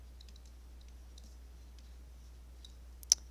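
Light plastic taps of numbers keyed into a calculator keypad, a scattered run of soft clicks ending in one sharper, louder press, quiet and close against a low hum.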